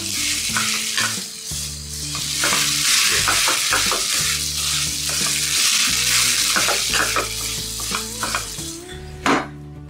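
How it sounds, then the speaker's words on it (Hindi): Boiled potatoes for a samosa filling mashed in a pan with a masher, producing repeated close thuds and scrapes over a continuous sizzling background, ending with a sharp knock. "साथ ही हम इनको मैशर की मदद से मिक्स कर लेंगे। मैश कर लेंगे इनको अच्छी तरह।"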